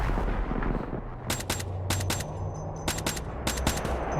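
Gunfire in a Call of Duty match: several short bursts of rapid shots in quick succession over a dense background of game noise, moderately loud and close.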